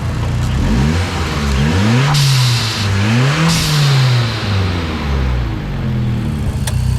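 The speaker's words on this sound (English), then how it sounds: "I'll rev it up from the front because you can really hear that GFB blow-off valve." A Mitsubishi engine fitted with a GFB blow-off valve is revved repeatedly from the front of an auction car, each rise and fall of the engine note followed by a hissing burst, loud and near with no talk.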